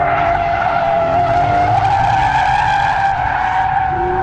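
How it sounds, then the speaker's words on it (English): A 2013 Hyundai Genesis Coupe drifting, its tires letting out a loud, sustained screeching squeal that wavers in pitch over a steady engine drone, close and continuous. "the rate of lateral slip during high yaw events, or basically what we like to call drifting"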